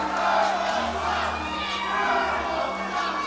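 A wrestling crowd at a Duke City Championship Wrestling show in Albuquerque roars and cheers, a dense, steady wash of many voices that stays loud throughout with no break.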